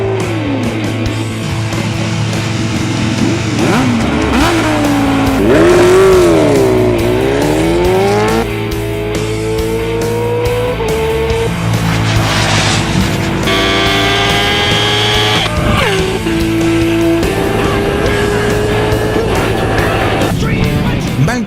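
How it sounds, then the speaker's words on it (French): A KTM Super Duke R roadster motorcycle accelerating hard at full throttle, its loud engine note climbing through rising pitch sweeps with gear changes, close and continuous throughout. "la KTM Super Juke R, le roadster le plus puissant de sa catégorie"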